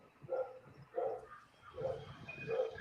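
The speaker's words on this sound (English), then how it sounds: "My dog's going crazy." A dog barks in four spaced, muffled bursts at some distance, each a short rough bark separated by quiet gaps, with no speech over them.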